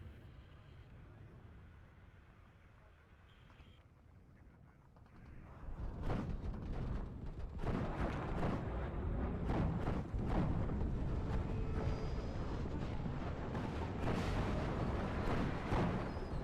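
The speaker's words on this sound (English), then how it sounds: "we are spamming 81mm mortars" 81mm mortar fire in the WARNO real-time strategy video game, a quiet stretch giving way to loud, sustained rumbling with repeated sharp impacts.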